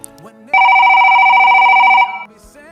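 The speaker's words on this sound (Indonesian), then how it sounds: "sudah masuk satu telepon ya Ustazah" An incoming call rings in on a radio show, a loud steady electronic telephone ring with a sustained two-tone warble lasting about a second and a half, close and clear, followed by brief quieter sounds.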